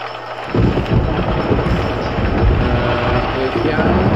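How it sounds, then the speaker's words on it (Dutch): Thunder and steady rain in RollerCoaster Tycoon Classic, a loud rumbling roll that starts abruptly and sustains under a dense, constant wash of rainfall. "Het begint te regenen."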